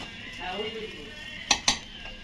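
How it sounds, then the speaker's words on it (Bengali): Chilli chicken fried rice being stirred in a pan: a soft, steady scraping bed broken by two sharp metallic clinks of a utensil against the pan close together near the end, with no talking. "এবার নাড়বো।"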